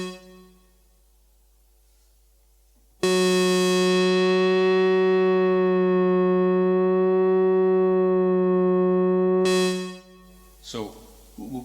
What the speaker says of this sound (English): So what you heard there was the envelope changing the filter frequency